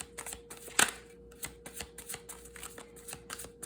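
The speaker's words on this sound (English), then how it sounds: "this is why I do the pop-out shuffles ahead of time" Rapid irregular riffling and soft snaps of cards being shuffled, close up, with one sharper crisp burst early on.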